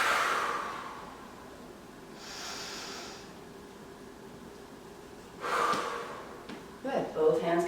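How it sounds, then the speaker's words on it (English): Deep breathing during a beginner power yoga session, two long airy breaths close to the mic with a soft quiet pause between them. "Taking that deep breath in"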